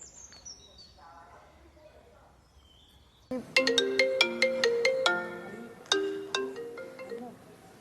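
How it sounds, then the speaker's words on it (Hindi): A phone rings on an outgoing call: an electronic ringtone plays a bright repeating melody of chiming tones, starting abruptly after a quiet stretch with faint background noise, and continuing steadily. "फोन करता हूँ स्वाति को।"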